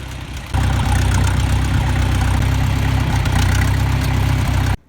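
A tractor engine idles steadily and close by after starting up, a loud low rumble with an even pulsing throb that runs unbroken until it cuts off at the end, with no talk over it.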